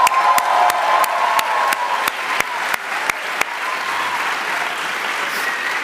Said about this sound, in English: please give yourself a warm round of applause